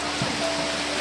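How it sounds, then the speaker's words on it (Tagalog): Heavy rain in the Philippines pours down as a steady, dense broadband hiss that holds even and close through the whole moment, with no voices over it. "Yan o, lakas ng ulan."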